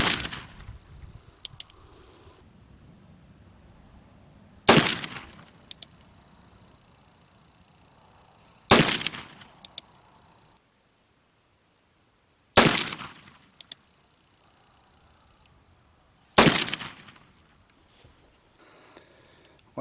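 Five sharp shots from an 1858 Remington .36 caliber black-powder revolver loaded with 20 grains of 3F powder, spaced about four seconds apart, each with a brief echoing tail and faint clicks between.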